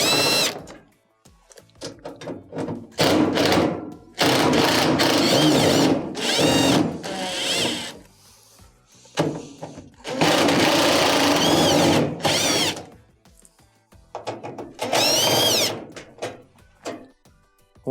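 Power screwdriver removing Phillips screws from the front panel of a GE dryer: several loud, close bursts of whirring motor, each a second or two long, separated by short pauses and clicks of handling.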